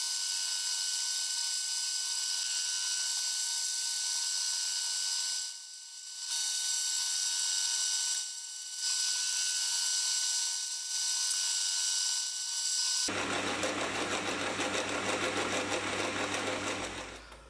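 A lathe taking light cuts on W1 tool steel drill rod, a steady high-pitched whine with brief dips, then a shift to a rougher buzzing texture near the end, close and without talk.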